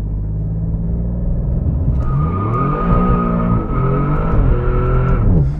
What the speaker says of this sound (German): mach mal Launch Control, mach ich.